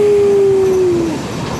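A short double-decker regional train pulls out of Munich railway station, giving a loud sustained tonal whine that slowly drops in pitch over steady station rumble.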